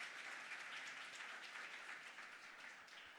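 A conference audience applauds at a sustainable cities event, giving sustained, even clapping from a large room that stays fairly soft and distant and tapers slightly at the end.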